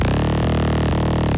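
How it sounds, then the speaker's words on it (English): A synth bass run through Dirt distortion produces a thick, saturated, gritty tone. It sustains loud and close with dense upper harmonics, briefly retriggering twice before cutting off at the end. "I have Dirt, such a good distortion plugin."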